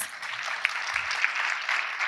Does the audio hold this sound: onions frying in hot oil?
no